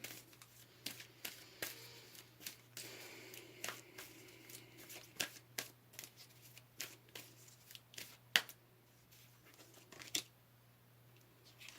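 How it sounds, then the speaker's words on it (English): Tarot cards shuffled and pulled from the deck, a quiet series of crisp flicks and riffling slaps at an irregular pace over a low steady hum, close but faint, with no talking. "So let's go ahead and pull another card here."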